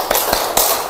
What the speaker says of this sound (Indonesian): Iya, tepuk tangan semuanya.